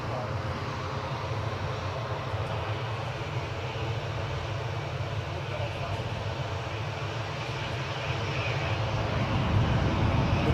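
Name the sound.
Airbus A340 taking off at Newcastle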